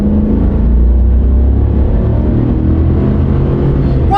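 A GM pickup truck's engine drones and revs while it manoeuvres in tight turns, a loud, steady low rumble with a slight swell, close by and with no talk over it.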